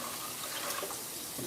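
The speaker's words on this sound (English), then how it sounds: "I'm going to add a little bit more water" Water pours in a steady, close gushing stream into a cooking pot for a stew, an even rushing splash throughout without talk.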